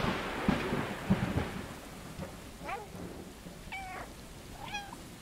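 A cat meows in the video game Stray against a backdrop of soft rain and distant thunder rumble, with several short rising and falling meows spaced out over the second half.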